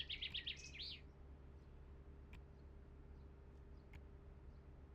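A bird gives a quick burst of bright chirps in the first second, close and clear, then only a low steady hum with a couple of faint ticks remains.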